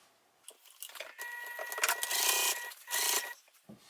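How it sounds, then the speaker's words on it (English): A sewing machine stitches around the edge of a fabric bag, starting and stopping in several whirring bursts of rapid mechanical chatter, close and fairly quiet, with no talking. "Let's go ahead and sew around and then turn everything out."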